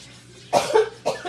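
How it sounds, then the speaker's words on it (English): Two sharp, close coughs about half a second apart, a person choking on pepper in the air while cooking breakfast in a home kitchen. "I'm trying to keep from coughing"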